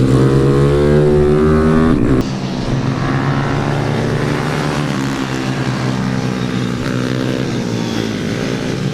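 A pit bike racing at Ellough Park bike night: a loud, close engine howling at high revs, with a sharp shift in pitch partway through, then a sustained buzzing drone as it holds speed.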